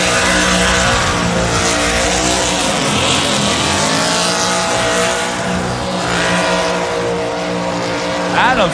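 Race car doing a prolonged tire burnout at a burnout competition in Bradenton, Florida, with both tires popped; a loud, continuous engine roar and screeching rubber, with a crowd and voices underneath throughout.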